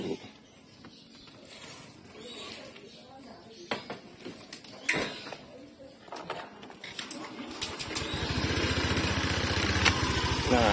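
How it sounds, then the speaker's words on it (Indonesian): A motorcycle engine running on Enduromatic oil idles steadily and grows louder toward the end, under someone talking and some background chirps. "Kita dengerin dulu suara mesinnya."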